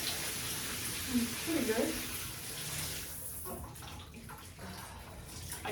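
Running water pours steadily while a hair mask is rinsed out of curly hair, a broad hiss that fades toward the end, with someone speaking briefly over it.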